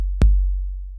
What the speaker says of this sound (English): Just like a pretty standard 808 kick.